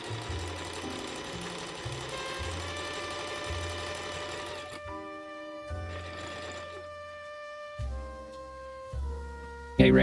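A sewing machine stitches fabric for a yarn bowl, a steady close mechanical whir with a fast rhythmic needle beat, stopping and restarting a few times under light background music.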